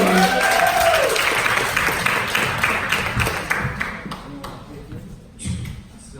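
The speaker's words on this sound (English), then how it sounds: "So please give a big hand to Brad." An audience at a hot yoga conference lecture applauds, a dense patter of clapping from many hands that gradually thins out, with some voices mixed in.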